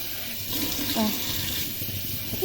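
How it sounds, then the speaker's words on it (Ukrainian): Cold tap water runs while pickling cucumbers are rinsed, a steady splashing hiss of the faucet with a few brief knocks and clinks over it, moderately close. "включаємо холодненьку водичку і отаку промиваємо"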